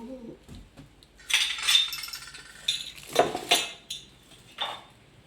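Sindoor tipped into a small container, heard as scattered clinks, light taps and scraping rattles that come in short bursts over a quiet room with no talking.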